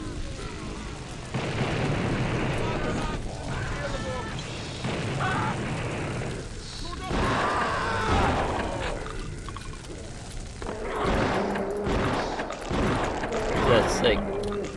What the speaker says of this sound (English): Eight shots or something.